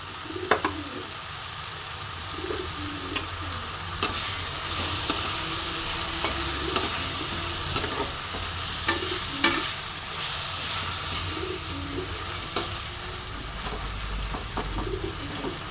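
Ground spice paste fries with softened onions and chicken in a pan, a continuous close sizzle punctuated by repeated scraping stirs, while pigeons coo softly in the background.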